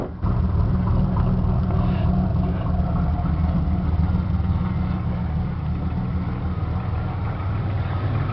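A Chevy Camaro with a 3.4-liter six-cylinder engine and five-speed manual runs steadily, a loud, close, even low rumble that holds for the whole stretch without talk.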